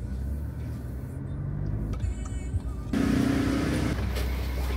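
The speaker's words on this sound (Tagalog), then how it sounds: "Okay, sobrang traffic." Heavy road traffic near a vegetable trading hub in Southern Luzon after a storm, with a steady rumble of car and truck engines up close and a louder engine surge near the end.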